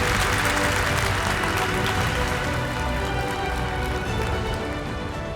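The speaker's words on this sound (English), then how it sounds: "So let's give Bill a big round of applause." Dense, sustained applause from a large keynote audience at NetApp INSIGHT 2024 fills the space as a continuous loud wash of clapping, tapering slightly toward the end.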